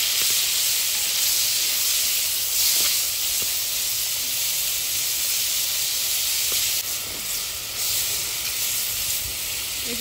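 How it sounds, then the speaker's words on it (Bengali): Prawns frying in hot oil in a wok give a steady, loud, close hiss and crackle that runs unbroken throughout, with no voices over it. "চিংড়ি মাছগুলো ভেজে নিচ্ছি।"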